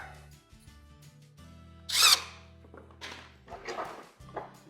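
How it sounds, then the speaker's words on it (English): A power drill makes a short high whine around the middle while pre-drilling wood for an assembly table, then softer bursts and clunks of handling follow amid a quiet workshop hum. "run a pre-drill"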